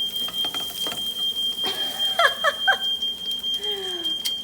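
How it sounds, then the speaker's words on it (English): A sensitive house smoke alarm going off while garlic scapes are cooked, a thin steady high-pitched tone that sounds throughout amid faint kitchen clatter and a few short chirps. "fire alarm is very sensitive in my house"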